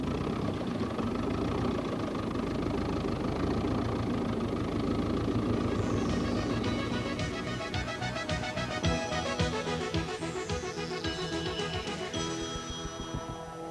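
A grey Ferguson tractor engine runs steadily nearby with a continuous throbbing mechanical drone. The rough vibrating rumble holds even throughout.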